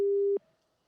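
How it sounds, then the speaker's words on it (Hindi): A telephone busy tone sounds once, steady and loud, after a phone link drops during a live television news interview, then cuts off into near silence. "कुछ टेक्निकल इशू की वजह से उनका बिल्कुल फोन बिल्कुल, देखिए कट जैसा हो गया शरद जी"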